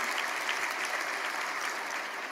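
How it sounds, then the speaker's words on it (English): Lecture audience giving a round of applause after a talk, a dense, even roar of many hands clapping heard a little distant, sustained without voices. "I think it deserves an additional round of applause."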